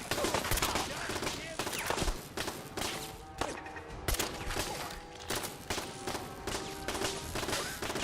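Turret gunfire in Fallout 4: rapid, loud bursts of shots with sharp impacts, almost continuous, with brief gaps throughout.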